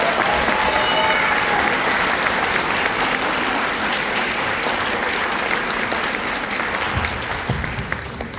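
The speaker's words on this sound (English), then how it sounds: "So let's give them a round of applause." Audience applause fills a school winter concert hall, a dense steady wash of many hands clapping at close range that carries on throughout and begins to thin slightly near the end.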